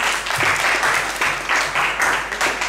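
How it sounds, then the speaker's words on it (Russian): Short burst of audience applause after a judged duel in a competition, a dense clapping crowd with pulsing surges, close and fairly loud. "Аплодируем."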